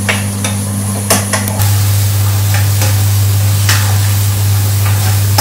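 Chopped onions sautéing in a pan, a steady close sizzle with scattered stirring scrapes over a constant low hum.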